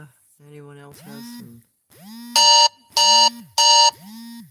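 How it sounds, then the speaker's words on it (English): An alarm goes off in three loud, repeating electronic tonal bursts, each with a rising chirp, following a brief spoken phrase in the room. "Well, that was my alarm."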